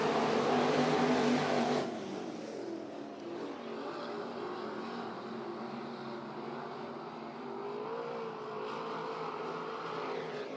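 Sprint cars in a heat race at Bubba Raceway Park, a loud engine roar at first that drops after two seconds to a steady droning race of several cars circling, holding a sustained whine throughout.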